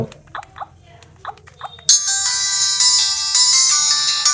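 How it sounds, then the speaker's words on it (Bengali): A Type-C keypad mobile phone plays its ringtone loudly and steadily, a bright electronic melody that starts abruptly after a few soft clicks and carries on continuously to the end. "এই ফোনটির যে রিংটোনের সাউন্ড কেমন ছিল"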